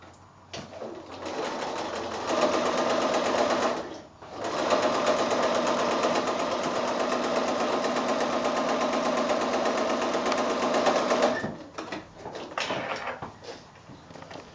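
A sewing machine stitches a quilt block in two long steady runs of fast, even whirring, with a short pause between them and quieter handling sounds at the start and end.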